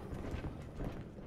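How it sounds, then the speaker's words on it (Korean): Footsteps in the video game The Witcher 3: Wild Hunt thud along in a soft, steady rhythm, muffled and fairly quiet, with no talking over them. "발자국 소리"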